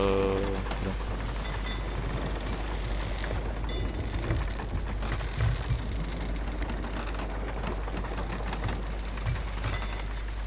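Heavy storm rain in the video game Sea of Thieves pours down continuously with a dense hiss and patter, low rumbling underneath, and scattered sharper drops throughout.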